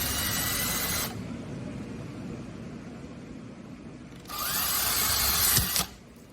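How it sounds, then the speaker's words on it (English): A power drill whirs into wood in two bursts, about a second at the start and another near the end, with quiet handling noise in between. "Now do the same thing, drilling in the center, carefully going slow or it will crack."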